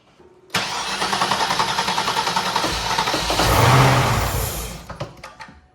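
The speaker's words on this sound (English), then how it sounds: "That's why we're getting a few little sputters when you try to crank it over." A Cadillac STS-V engine cranks steadily for several seconds with rhythmic starter pulses, sputtering and briefly catching as it struggles to fire, then cutting out; loud and close, with no talk.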